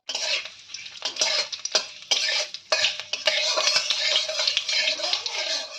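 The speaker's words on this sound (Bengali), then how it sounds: "ফোড়নটাকে আমরা ভালো করে ভেজে নেব।" Two whole bay leaves, a dried red chili and five-spice seeds fry in hot oil, sizzling steadily while a utensil stirs and scrapes the pan in repeated close strokes.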